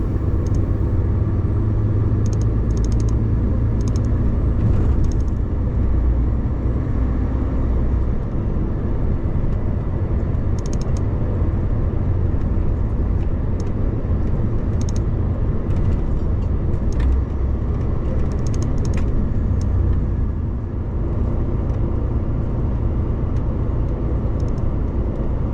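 Steady road rumble from inside a vehicle driving through traffic toward Salisbury, a continuous loud low drone with faint higher hiss and no talk.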